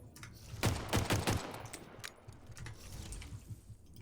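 Faint rapid bursts of gunfire from the Halo Infinite video game, heard in Forge mode with the helium audio effect applied, followed by scattered quieter pops.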